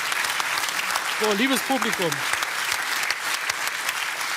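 A talk show studio audience in Cologne claps steadily and densely throughout, with a voice briefly speaking over the applause in the middle.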